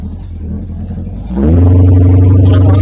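Cars on a main road in southern Indiana: a steady low rumble swells into a loud, close vehicle pass about halfway through, then holds as a heavy engine drone with no voices.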